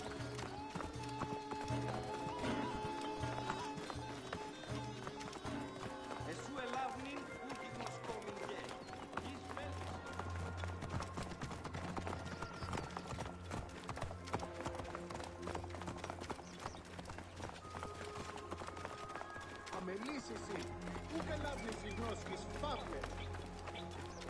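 Rapid hoofbeats of galloping horses in Assassin's Creed drum steadily over layered music and ambient sound, with a brief neigh, continuing throughout.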